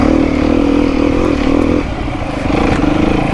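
A Beta 390 dirt bike engine drones loudly and close while being ridden, its steady rumble dipping briefly as throttle eases and then picking back up.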